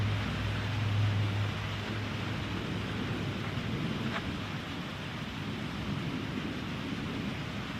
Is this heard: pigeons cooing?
no